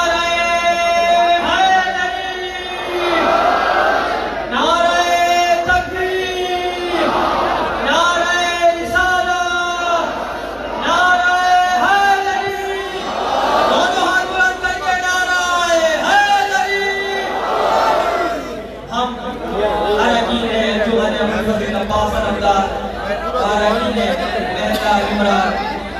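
A crowd at a rally for a cleric answers a leader's call with rhythmic chanted slogans, loud and close, the group shout rising and falling in repeated bursts over amplified voices.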